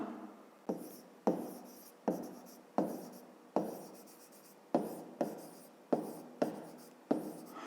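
Pen strokes writing out the solution to a fifth-grade math exercise on a triangle's sides: a steady series of about a dozen close, crisp scratchy strokes, each sharp onset fading quickly, with no talking.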